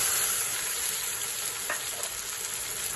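Spice mix goes into onions frying in a pan, giving a steady bright sizzle throughout with a faint stir partway through and no talk.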